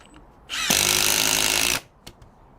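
A Milwaukee M18 cordless impact driver on mode 3 drives a 3/8 by 3 inch lag bolt with a 9/16 inch socket, a loud sustained rattling hammer of just over a second that starts and stops abruptly, close by.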